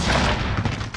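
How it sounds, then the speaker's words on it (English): A dense, loud barrage of incoming fire from Call of Duty: Modern Warfare fills a single second, an unbroken crackling roar of overlapping shots and impacts. "taking fire"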